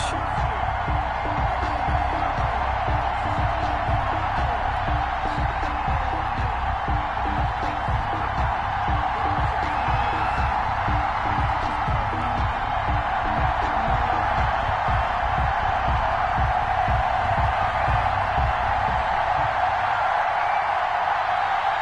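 A stadium crowd roars with a steady, dense cheer at a Tampa Bay Buccaneers vs Cleveland Browns NFL football game, a constant wash of noise with no breaks.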